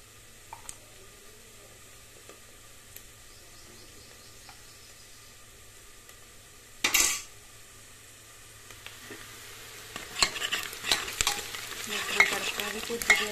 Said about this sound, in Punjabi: ਤੜਕਾ ਆਪਣਾ ਹੋ ਗਿਆ ਰੈਡੀ